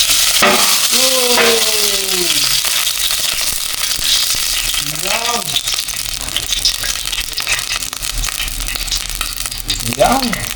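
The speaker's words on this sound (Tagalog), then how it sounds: "gisa na po muna natin yung ating mga pang-aromatics" Aromatics sauté in a hot pan with a loud, dense sizzle and frequent clattering stirs. Voices break in briefly a few times over the frying.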